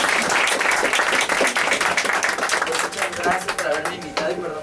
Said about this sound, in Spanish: Un aplauso para Megan García